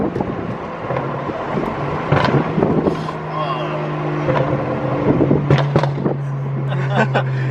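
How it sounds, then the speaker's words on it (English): A BMW 335i with the twin-turbo N54 engine, tuned so its exhaust burbles near 3,000 RPM, rumbles steadily from inside the cabin during a ride along, with crackly pops and wind noise layered over people talking. "I have it set up where they can burble"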